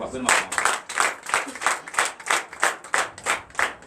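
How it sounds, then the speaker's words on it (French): A congregation at a Sunday church service in Benin claps in unison, a strong, even beat of loud hand claps repeating roughly three times a second, with voices underneath. "Donnez l'acclamation."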